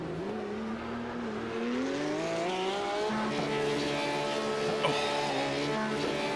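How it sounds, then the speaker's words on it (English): Porsche race car engine in a sim racing game at Long Beach, a high strained whine climbing and then holding and stuttering against the rev limiter, loud and continuous with faint tire noise. "It's the painful sound of a car just bouncing off of the rev limiter with nothing to do"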